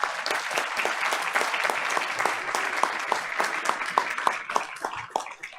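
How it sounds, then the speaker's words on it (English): An audience at a Board of Education meeting award presentation gives a sustained round of applause, dense steady clapping from many hands that thins out toward the end. "Audience, let's show them our appreciation with another round of applause."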